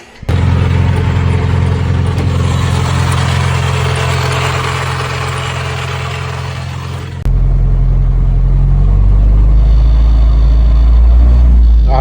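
A Honda with a K20Z3 engine and a failing transmission runs loud and close, engine droning steadily, then a sudden shift drops it into a deeper, heavier rumble that builds again.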